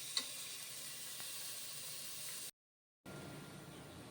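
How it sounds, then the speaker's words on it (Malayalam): Sliced onions deep frying in oil as a crisp garnish for Malabar chicken biryani give a steady, close sizzling hiss that cuts out briefly to silence and then resumes. "ഇവിടെ സവാള നമുക്ക് ഡീപ്പ് ഫ്രൈ ചെയ്ത് വറുത്തെടുക്കണം."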